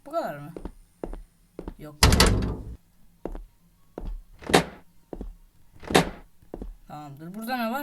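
A door in the Granny horror game, set in a hospital, shuts with heavy thuds, one loud bang followed by a couple of softer knocks, while a player's voice and game sounds come and go between them.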